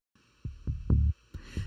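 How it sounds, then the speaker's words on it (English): Arpeggiated synth bass from the free Tyrell synth, heard as a short run of quiet, pulsing low notes with soft attacks, a few rapid thumps rising and falling alone. "We added an arp bass when we came in the second verse"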